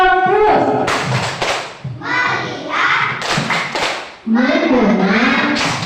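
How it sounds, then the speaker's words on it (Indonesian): A school class performs a rhythmic focus-clap routine, with loud group claps and thumps in patterned bursts alternating with children chanting together in unison. "tepuk fokus."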